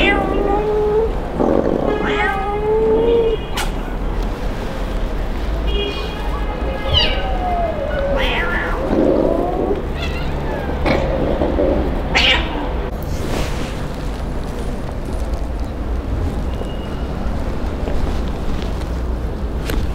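Abandoned kitten crying on the street, giving repeated high, plaintive meows spread across the stretch. Steady background noise runs underneath, and the cries are close and clear.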